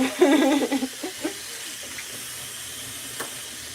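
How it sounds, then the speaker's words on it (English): Potatoes rinsed under a running cold-water kitchen tap: a louder splashing burst at the start that settles into a faint, steady trickle with a brief splash near the end, and no talking. "Giving these a nice rinse though."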